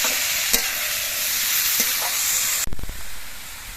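Radish stalks with green chilli being stirred into hot oil in a pan: a continuous loud sizzle with occasional scraping stirs, and one sharp clatter near the end as the sizzle suddenly drops.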